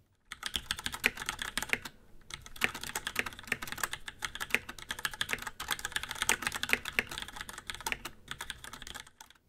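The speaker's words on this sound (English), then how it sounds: "here's an example of what my Cherry MX Red keyboard sounds like" Fast typing on a Cherry MX Red mechanical keyboard, a dense run of crisp clacking keystrokes up close, broken by a couple of short pauses, with no voices.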